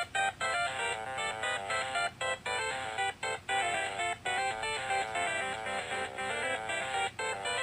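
An 8-bit ringtone plays a bright, chiptune-style looping melody of rapid beeping notes, steady and fairly loud with brief gaps between phrases.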